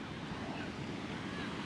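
Sea waves wash steadily onto a beach on the coast, a dense continuous roar mixed with wind buffeting the microphone, loud and close with no speech.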